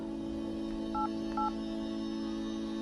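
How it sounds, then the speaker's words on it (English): Two short keypad tones pressed on a phone during an emergency call, each a brief beep, over a steady background hum with no talk. "can you press any buttons on the keypad for us, please?"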